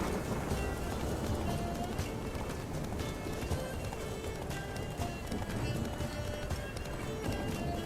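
Horse hooves galloping in The Witcher 3 video game, a steady, continuous clip-clop of running hooves with occasional whinnies under a busy, dense game soundscape.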